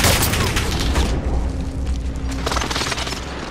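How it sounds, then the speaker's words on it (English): Heavy booming airstrike explosions in Call of Duty: Modern Warfare roll in loud waves, a deep rumbling blast that fades, then a second one erupts near the end. "Allied precision airstrike"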